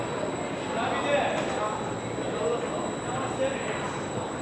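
A steady rumble and hum inside an Intercity Notte night sleeper train from Rome to Palermo, with faint squeaks and soft murmuring voices.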